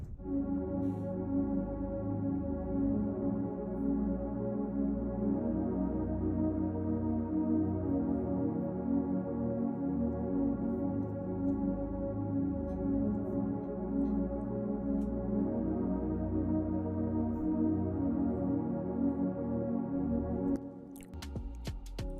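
A Nexus PD Ambient Pad 3 synth pad from an FL Studio beat drones as one steady, dense wash of sustained tone for about twenty seconds, then cuts off near the end, with no talk.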